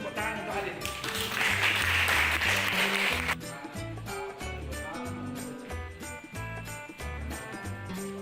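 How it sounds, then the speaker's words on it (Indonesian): Classroom audience clapping forms a dense burst for about three seconds, then stops abruptly as background sounds continue. "Tepuk tangan untuk Adit."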